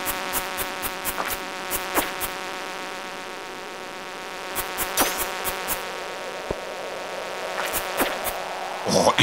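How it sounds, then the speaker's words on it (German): Mosquitoes buzzing in the video game Stardew Valley, a steady thin whine held under a repeating plucked tone. Brief chirping bursts come and go, and the sound rises near the end. "Diese Mücken. Ich hasse diese Mücken."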